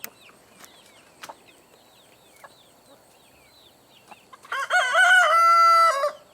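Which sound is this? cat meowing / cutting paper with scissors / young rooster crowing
young rooster crowing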